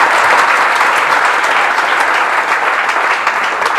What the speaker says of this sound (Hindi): एक बार जोरदार ताली उस बच्चे के लिए, क्या बात है।